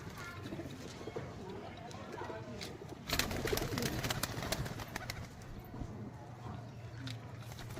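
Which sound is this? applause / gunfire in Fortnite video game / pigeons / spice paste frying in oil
pigeons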